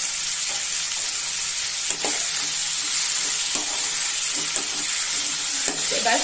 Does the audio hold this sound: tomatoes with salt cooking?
yes